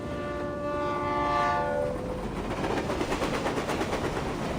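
In a video game, a train horn sounds with steady tones, then fades into the rushing, rumbling roar of a train rolling past with rhythmic clatter, no voices.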